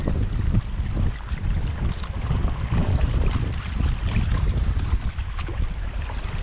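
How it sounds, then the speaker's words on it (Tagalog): Wind gusting at sea around a small fishing boat off Guam, a continuous low roar and rumble buffeting the microphone, with water sloshing beneath and no voices. "Medyo mahangin ngayon ah."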